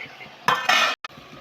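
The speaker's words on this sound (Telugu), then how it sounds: "ఇలా కొంచెం వేగాక మూత పెట్టేసుకోవాలి" A metal lid is set onto a cooking pot of frying chicken: a close scraping rattle, then one sharp clank as it seats, followed by a low sizzle.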